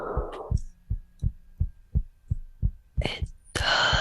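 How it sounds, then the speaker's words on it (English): A heartbeat recording played back from a video thumps in a steady, fairly quick double-beat rhythm, close and clear, with brief bursts of talk and other noise near the end. "It might be too fast though, but it does sound like a heartbeat."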